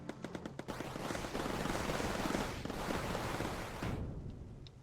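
Anti-aircraft gun in the game Mindustry fires in a rapid burst of sharp shots, then gives way to a loud, dense roar of sustained fire that trails off near the end.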